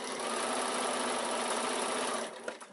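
A sewing machine runs steadily, stitching a 1 cm seam on a quilted evening bag, a continuous close whir that stops near the end with a few soft clicks.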